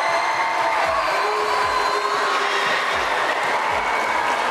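Crowd at a school sports-day warm-up, a steady wash of applause and cheering that stays loud and continuous throughout, with faint low thumps underneath.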